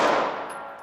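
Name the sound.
pistol rounds fired during qualification course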